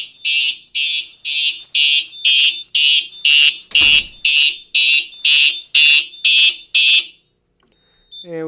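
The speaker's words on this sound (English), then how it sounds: "Alarms are still continuing to go." A Simplex 4010 fire alarm system sounds a loud, steady run of about a dozen rapid, evenly spaced high-pitched electronic pulses, close by, then cuts off abruptly into silence.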